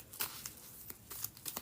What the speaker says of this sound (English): We shuffle them up.